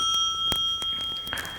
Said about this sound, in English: When you hear the bell, you may begin.